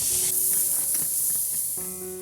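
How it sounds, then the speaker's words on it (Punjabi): Two large finely chopped onions fry in oil while being stirred, producing a loud, steady sizzle with scraping stir sounds close by and no speech. "ਪਿਆਜ਼ਾਂ ਨੂੰ ਆਇਲ ਦੇ ਵਿੱਚ ਮਿਕਸ ਕਰਕੇ ਆਪਾਂ ਲਾਈਟ ਬ੍ਰਾਊਨ ਹੋਣ ਤੱਕ ਇਹਨਾਂ ਨੂੰ ਭੁੰਨ ਲੈਣਾ ਹੈ"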